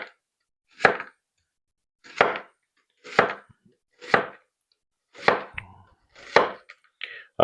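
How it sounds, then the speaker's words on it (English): A HOSHANHO kitchen knife slicing through an onion onto a board, seven crisp evenly spaced chops about a second apart, close and clear with silence between. "So let's see how this HOSHANHO knife does on an onion."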